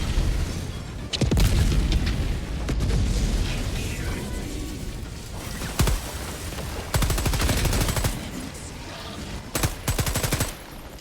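Gunfire, heavy booms and a grenade blast ring out in a Helldivers 2 battle against automatons, with bursts of machine-gun fire and sharp explosions recurring throughout, loud and close.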